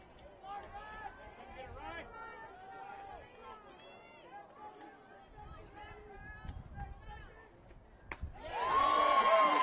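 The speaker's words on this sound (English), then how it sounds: "Bulldog fans giving a little cheer and a little shake of their noisemakers" Bulldog fans at a high school state championship softball game break into cheering and a burst of rattling noisemakers near the end, louder than the crowd murmur and commentary that run beneath most of the stretch.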